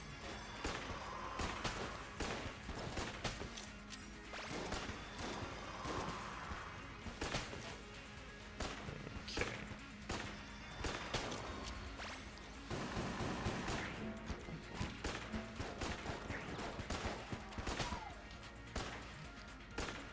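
Gunfire from a gun in Enter the Gungeon comes as a dense run of sharp, rapid shots and impact crashes, with little pause between them, over busy game music and effects.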